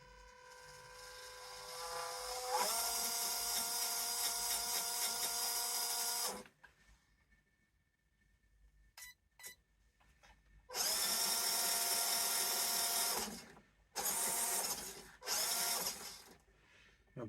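Small electric 370 motor in a Jxc LC80 RC car whirring at slow speed, a steady high-pitched drone with a mechanical rattle, running in several bursts separated by short pauses, close and fairly loud.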